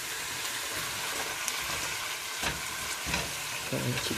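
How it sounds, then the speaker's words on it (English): Garlic and red wine stirred in a hot pan for lobster bisque, giving a steady close sizzle with soft scraping stir strokes and a few brief louder bursts, no talk. "Give that a quick stir, and this will stop the cooking process of the garlic, so the garlic doesn't burn."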